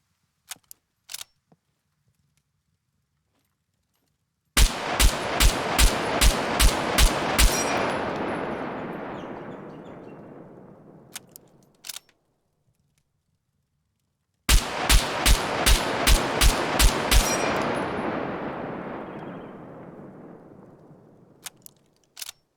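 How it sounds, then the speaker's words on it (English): Rifle fire in the survival game Scum: two bursts of five sharp, evenly spaced shots, each burst ringing out into a long fading echo before a short click of the weapon jamming, with no voices. "So as you see there, 5 rounds went off, and then we got a jam"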